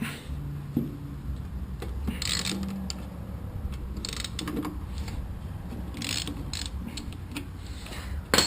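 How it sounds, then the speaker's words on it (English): A ratchet fitted with a number 8 Allen socket works loose the rear brake caliper bolts on a Harley without ABS, giving quiet, irregular mechanical clicks and creaks close by. "We're using number 8 Allen wrench. I got it on a socket."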